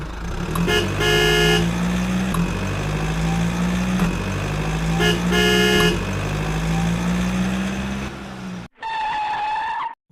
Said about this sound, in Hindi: तभी कार की आवाज आती है